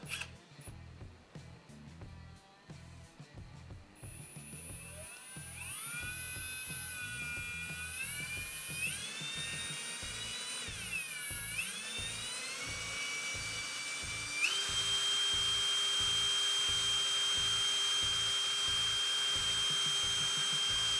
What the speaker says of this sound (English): now we can grab the hammer drill. We're going to put it into drill mode.